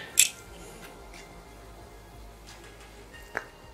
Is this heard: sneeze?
no